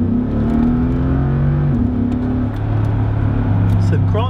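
Mercedes G-Wagon accelerating along a dual carriageway, a steady low engine drone and road rumble heard from inside the cabin, with a person talking over it throughout.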